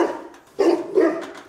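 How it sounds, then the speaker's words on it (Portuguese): A dog gives two close, loud barks in quick succession, with quieter breathy sounds before and between them. "Olha, olha. Cachorro."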